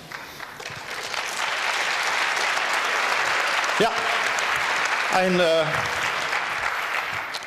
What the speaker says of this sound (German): mehr als richtiger Applaus dafür